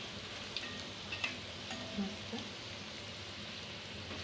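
Modak dumplings frying in hot oil give a soft, steady sizzle with scattered faint pops and crackles throughout, low and close with no talking.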